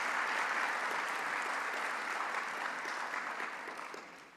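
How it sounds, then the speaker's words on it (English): Sustained applause from an audience at the opening ceremony of the Caribbean Investment Forum 2025 in Jamaica, steady and dense at first, then slowly tapering in loudness. "give Dr. Sinanan and his team a round of applause"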